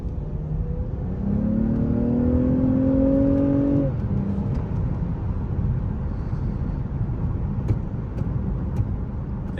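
A 2022 Lexus ES350 F Sport engine revs up with a rising whine for a few seconds, then settles into a steady road rumble as the car cruises on.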